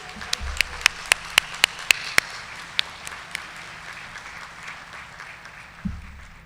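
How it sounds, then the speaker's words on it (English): Scattered, sharp individual hand claps ring out from a college commencement audience for a few seconds and then fade, leaving a quiet hall with a low background hum and a brief thump near the end. "Let's give them a well-deserved round of applause."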